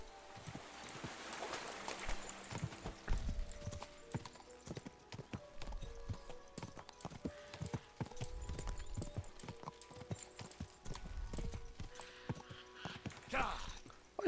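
Horse hooves clip-clop at a steady walking rhythm through most of the stretch in Kingdom Come Deliverance II, close and clear against game music and ambience, with a brief whinny and faint talk at moments.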